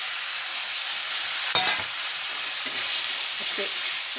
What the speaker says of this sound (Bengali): ছেড়ে দিলাম আলু, আলুর সাথে মশলাগুলো দিয়ে দিচ্ছি